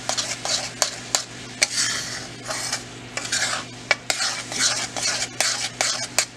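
Spoon scraping and stirring chickpea flour in a pan over low heat, a faint sizzle beneath repeated sharp metal taps and sweeping scrapes at an uneven rhythm, close up.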